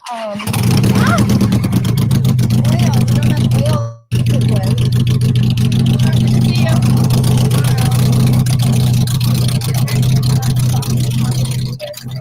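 A motorbike engine running and revving nearby, a loud steady low throb with rapid pulsing that cuts out briefly, then resumes, while people talk over it.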